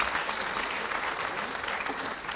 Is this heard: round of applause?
yes